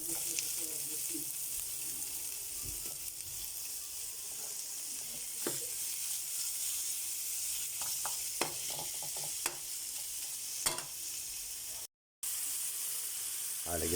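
Lechon frying in a pan for ginataang kalabasa, a steady soft sizzle throughout with occasional sharper pops and stirring scrapes, fairly quiet and without talk.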